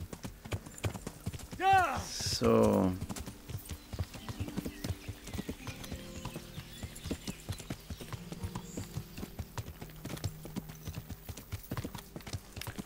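Horse hooves clip-clopping steadily in the medieval game Kingdom Come: Deliverance, with a loud whinny early on and someone briefly speaking over the rhythmic trotting.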